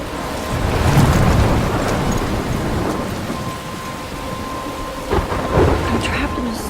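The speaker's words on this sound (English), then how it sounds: "I'm trapped in a storm." Thunder rumbles over steady heavy rain in the video game Life Is Strange, with a couple of louder rolling bursts.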